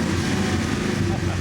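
A cammed American V8 K1500 truck with a custom quad tip exhaust is revved, producing a continuous loud, close, deep exhaust roar that holds steady throughout the short stretch.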